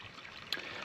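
Water tumbling into a small, newly built backyard stream on a rural property, a steady close trickle and burble with one brief splash partway through.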